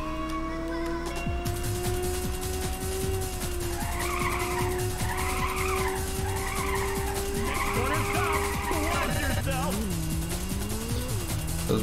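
A car skids in the Ridge Racer video game, seen from first person, with a steady engine whine under long warbling tyre squeals that rise and fall and run continuously at loud, close range.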